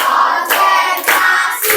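A class of schoolchildren claps together in a 'tepuk 4' pattern in a classroom, loud and close, with a few sharp group bursts, some voices joining in.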